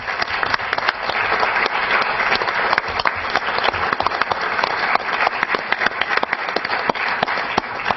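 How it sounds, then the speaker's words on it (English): Loud, continuous applause from attendees at a rail authority board meeting, dense crowd clapping with prominent close individual claps, no voices over it. "let me just offer a round of applause for your service"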